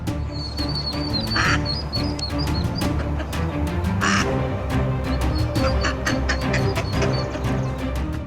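Repeated loud duck quacks in quick, uneven bursts over a busy outdoor bird chorus, close and dominant throughout.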